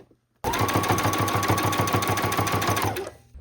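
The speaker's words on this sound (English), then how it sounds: "I'm going to keep on sewing until I get closer here" A sewing machine stitches bias tape onto a needlepoint canvas, running steadily for about three seconds, its rapid needle rhythm whirring loud and close after a brief silence.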